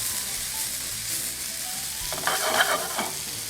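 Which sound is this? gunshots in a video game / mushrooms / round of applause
mushrooms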